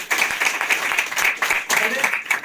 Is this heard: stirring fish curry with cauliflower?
no